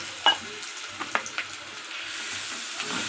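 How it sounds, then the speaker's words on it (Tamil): Yellow pumpkin pieces drop into hot ghee in a pan with a sharp initial clatter, then a steady soft sizzle with a few light stirring knocks, close and unaccompanied by talk. "இப்போ இதில் வந்து மஞ்சள் பூசணிக்காவை சேர்த்துடலாம்"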